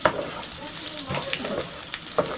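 Panch phoron spices hit hot oil with browning garlic for a magur fish curry, giving a brief crackling sizzle with scattered pops and light stirring, close and moderately loud.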